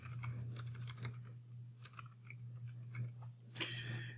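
Computer keyboard typing while entering a value into the Niagara effects editor in Unreal Engine, with a quick, close burst of light key clicks over a steady low hum, no voice.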